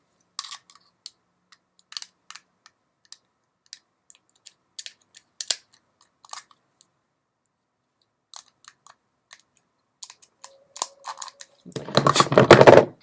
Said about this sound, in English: take this and cut off any extra sharp edges